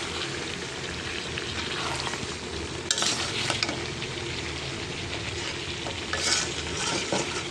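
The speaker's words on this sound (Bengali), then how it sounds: "দেখছেন কতটা এই মশলাটা তেলের লগে বেশি ভাজা ভাজা তাহলে ভালো লাগবে।" Spice masala frying in oil for a duck meat kala bhuna curry, a continuous close sizzle with a couple of louder bursts of stirring and crackle, no talking.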